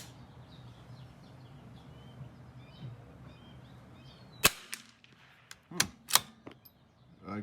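Several sharp, close .22LR rifle shots fired with Eley Practice match ammunition at an outdoor range, sounding as isolated cracks after a quiet stretch with faint birdsong in the background.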